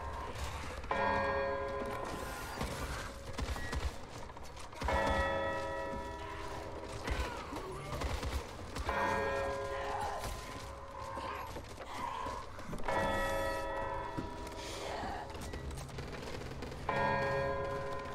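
A church bell in Back 4 Blood tolls repeatedly at a slow, steady pace about every four seconds, each strike ringing out and decaying over quiet mechanical creaks and game ambience.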